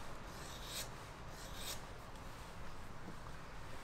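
A leather tote bag edge is chamfered by hand, giving soft, close scraping and rasping strokes, a couple of brighter shaves standing out, in a quiet room.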